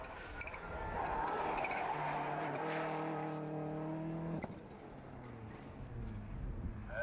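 A rally car races flat-out in the UK Rally Challenge 3 video game, its engine roaring loud and close, climbing through rising revs with gear changes, then easing as the tone drops. No voices are heard.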